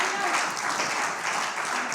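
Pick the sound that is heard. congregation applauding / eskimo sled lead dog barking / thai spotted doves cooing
congregation applauding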